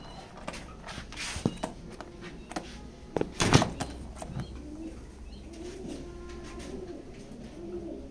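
Pigeons at a pigeon loft coo softly in the background, with scattered sharp knocks and clatters up close and no voices heard.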